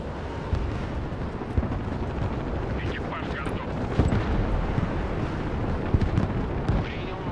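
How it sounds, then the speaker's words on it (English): Tor air defense vehicle firing nonstop in the Broken Arrow war game, a dense rumbling barrage of rapid booms and cracks under constant battle noise, with talk over it. "Oh, the Tor is just going to keep firing. Look at it go."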